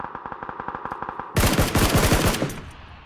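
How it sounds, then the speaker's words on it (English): Rapid automatic gunfire from a first-person shooter video game, a steady burst of evenly spaced shots followed by a louder, denser volley of close, heavy shots with no talking. "You're getting shot from behind."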